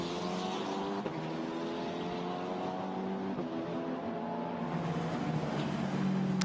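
A 2020 Formula Renault Eurocup race car on a flying qualifying lap at Spa-Francorchamps, its engine note a sustained high-revving whine with steady harmonics, shifting pitch slightly through gear changes, heard continuously and fairly loud.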